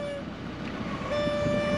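Electric train passing close by, a steady rolling rumble with a sustained tonal whine that drops out and returns, building slightly louder toward the end.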